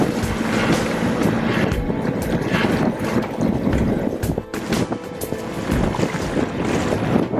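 A boat motor runs steadily in a canal choked with water plants, under heavy wind buffeting and splashing water, loud and close throughout.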